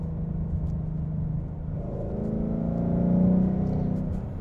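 Steady low engine and exhaust drone from a 2018 Mustang GT cruising in third gear in normal mode, close and continuous, swelling slightly in pitch and loudness near the end.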